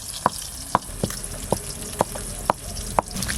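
Rui fish pieces frying in a pan, a steady hiss of hot oil under regular sharp taps and clinks of a spatula roughly twice a second, close by and without talk.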